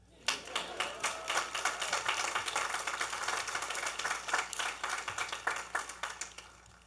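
A commencement audience applauds, a steady run of many hands clapping at moderate, somewhat distant level, rising quickly and sustained for several seconds before thinning out.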